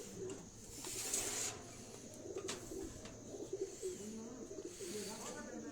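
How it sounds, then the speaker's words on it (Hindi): Pigeons coo on a house roof in Chak Shahzad, soft repeated low calls under ongoing background noise, with people talking nearby. "कबूतर भी बड़े अच्छे आपने दिखाए"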